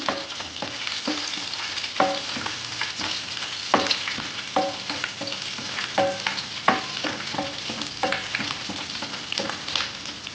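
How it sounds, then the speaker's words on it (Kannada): Raw garlic fries in hot oil with a steady close crackling sizzle, punctuated by intermittent scrapes and taps of a stirring spoon against the pan. "ಈಗ ನಾನು ಇದೇ ಎಣ್ಣೆಗೆ ಬೆಳ್ಳುಳ್ಳಿ ಇಟ್ಟಿದ್ನೆಲ್ಲ ಹಸಿ ಬೆಳ್ಳುಳ್ಳಿ ಅದನ್ನೊಂದು ಸ್ವಲ್ಪ ಫ್ರೈ ಮಾಡ್ಕೊಂಡು ಬರ್ತೀನಿ"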